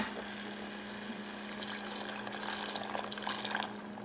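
Water poured into a pan of kofta with spiced sauce, a steady close trickle and splash with a low background hum, building slightly toward the end, no talking.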